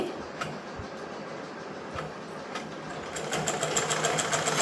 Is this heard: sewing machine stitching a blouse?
yes